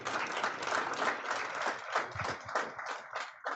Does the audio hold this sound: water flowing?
no